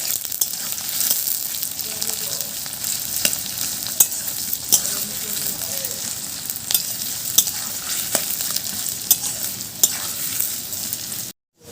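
Chopped onions frying in oil for chicken kosha, a close, steady crackling sizzle with frequent spatula scrapes and knocks against the pan, cutting off abruptly at the end.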